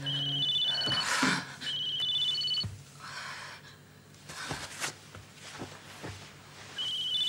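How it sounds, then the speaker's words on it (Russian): A telephone rings in repeated electronic trills, bursts separated by short pauses, fairly close and clear with little talk around it. "Никас, телефон звонит."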